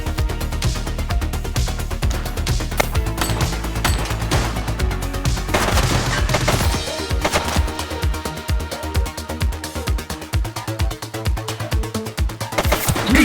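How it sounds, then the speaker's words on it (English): Rapid bursts of gunfire in The Precinct police video game, dense repeated shots running throughout under a busy, loud mix of other game sounds. "He's shooting!"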